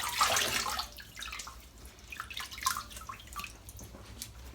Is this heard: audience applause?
no